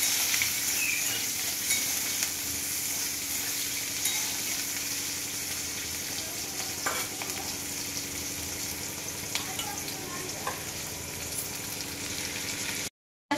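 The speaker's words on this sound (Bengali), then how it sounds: "একটা পেঁয়াজ, একটু লাল লাল করে ভাজবো।" An onion frying in a pan with garam masala, a continuous bright sizzle with occasional light stirring clicks, close and steady, no voices, cutting off abruptly at the end.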